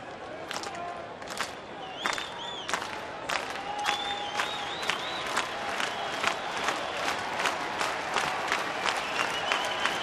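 Baseball stadium crowd at a Giants at Rockies game in Colorado clapping and cheering with two strikes and two outs, rhythmic rising applause with shouts and whistles, moderately distant and building steadily.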